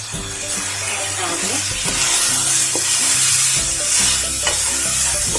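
Rice stirred in a pot with three bay leaves and green chilies for chicken tehari, giving steady scraping and stirring under a soft sizzle, with periodic clanks of the spoon against the pot; no talking.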